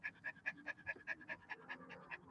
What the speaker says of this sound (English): Do you hear him panting there?